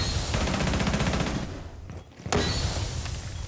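Rapid automatic gunfire from an FMG submachine gun in a Rainbow Six Siege esports match: dense, loud sustained bursts with a short gap and a sharp shot before firing resumes.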